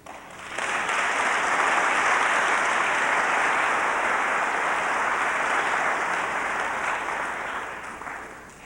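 Sustained audience applause at a 1989 creation–evolution debate, a dense steady roar of clapping from a large crowd that swells in quickly, holds for several seconds, then tapers near the end, with no talking over it.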